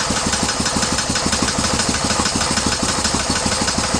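Close up, an old engine idles with a regular, rapid knocking pulse repeating evenly throughout, loud and steady with no voices.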